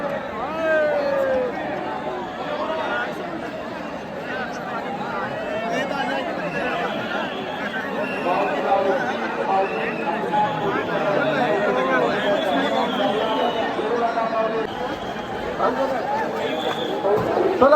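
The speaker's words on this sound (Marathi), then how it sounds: "मंदिर वगैरे कशी गर्दी आहे नदीला" A dense crowd chatters around the Pandharpur Vitthal temple and the nearby riverbank, with many overlapping voices blending into a continuous, fairly close babble that swells slightly toward the end.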